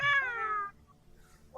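A single cat, Chocolat, meows clearly and close, one drawn-out falling call of about half a second, followed by quiet room noise and a faint rustle at the end.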